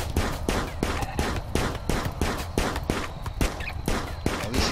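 Rapid, regular bursts of gunfire from a colonist shooting at a turtle in the modded game RimWorld, loud and continuous with sharp repeated cracks and no talk.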